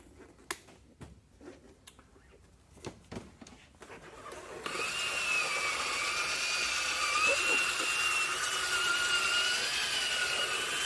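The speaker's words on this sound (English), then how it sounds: "I'm going to use a drill with a foam polishing pad on it" A drill spins up with a foam polishing pad against a Toyota MR2's scratched, fogged headlight lens, producing a steady whirring, buzzing drone after a few seconds of scattered clicks and taps.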